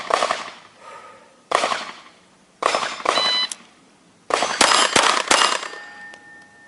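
Shots from a 1935 Beretta .32 ACP pistol crack sharply and loudly, each followed by a ringing metallic decay, spaced out over several seconds.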